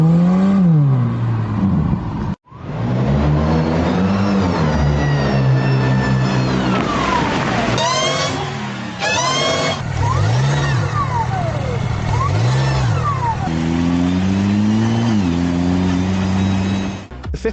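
Turbocharged Wuling Hongguang car engine revving repeatedly, rising and falling in pitch through several throttle blips, with a brief cut near the start. The engine sounds loud and close for most of the stretch.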